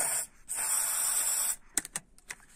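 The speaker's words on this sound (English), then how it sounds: "spray down the tube and it'll flow down to the back of the ferrule" Silicone spray hisses down the handbrake cable tube of a Skoda Fabia in one long close burst, then a few short clicks and taps follow.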